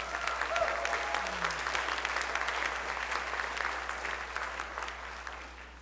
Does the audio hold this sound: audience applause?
yes